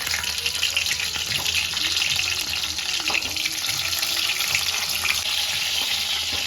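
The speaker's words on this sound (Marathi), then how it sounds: "आता ही कारली मिठाच्या पाण्यामधून काढून आपण दुसऱ्या पाण्यामध्ये वॉश करूया." Bitter gourds are rinsed in water after soaking in salt water, giving a steady splashing, trickling wash with light clatter and no talking.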